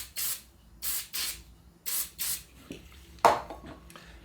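Brake cleaner is sprayed onto Land Rover Series gearbox parts in several short, close hissing bursts separated by pauses, with a small metallic clunk near the end.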